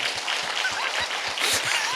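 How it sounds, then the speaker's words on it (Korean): A church congregation claps in a short burst of applause during a sermon, moderately loud and steady, with no voices over it. "박수 한번 쳐줘봐"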